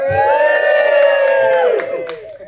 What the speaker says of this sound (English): You're meant to cheer at that point.